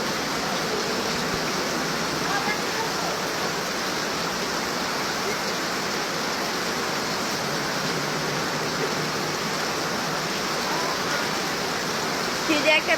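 Heavy rain pours steadily over a village in Bangladesh, a dense, continuous broadband hiss like a downpour drumming on surfaces, loud and unbroken throughout with no speech.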